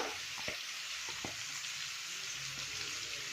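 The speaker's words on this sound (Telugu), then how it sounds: "ఆ పప్పుకి లివర్ ఫ్రై బాగుంటుందని లివర్ ఫ్రై చేస్తున్నాను" Chicken liver fries in a pan with a dense, even sizzle, with a few soft stirring knocks now and then.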